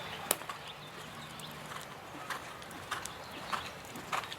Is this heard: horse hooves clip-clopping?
yes